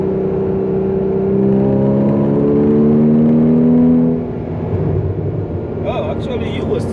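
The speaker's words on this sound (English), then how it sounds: "I need to hear the engine on the back screaming" A loud 981 Porsche Cayman S engine holds a steady high rev with rising harmonic whine, then drops off, followed by rumbling idle and faint talk.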